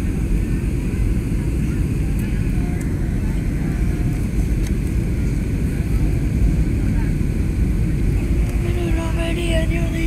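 Airplane cabin noise during landing: a loud, steady engine and airflow roar fills the whole stretch close and unbroken, with faint chimes and clatter near the end and no clear talking.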